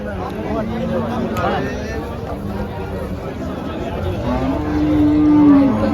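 HF cattle moo over a steady crowd murmur at a cattle market in Chalisgaon, with one drawn-out low moo rising near the end amid busy market chatter.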